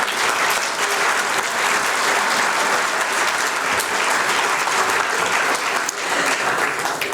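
A gala audience applauds in a dense, steady wash of clapping that holds loud and even from start to finish, with no voices standing out.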